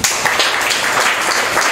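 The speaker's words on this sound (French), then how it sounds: "Vous voudriez l'accueillir par l'acclamation." A hall audience breaks into a brief, dense burst of applause to welcome the minister of secondary, technical education and vocational training, the clapping steady and even throughout.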